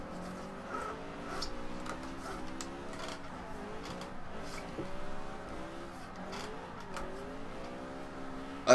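A Volkswagen Golf drifts in the racing game Forza Horizon 2, its engine whining as it rises and falls through gear changes, with light ticking over a moderate, steady mechanical hum and no talking.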